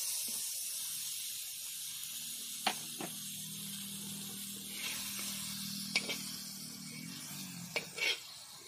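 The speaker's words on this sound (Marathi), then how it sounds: "आता त्याच्यात आम्ही भेजा घालूया। भेजा घालताना असं अलगद घालायचा।" Goat brain (bheja) sizzles as it is gently placed and fried in a hot pan, a steady moderate hiss with a few soft clicks and spatters, no voices.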